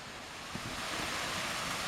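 A waterfall at an outdoor 3D archery range gives off a steady, dense rushing roar, constant and moderately loud throughout with no talking.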